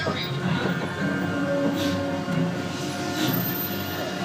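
A theme park tram rumbles steadily along with a droning, rattling ride noise, voices murmuring faintly over it.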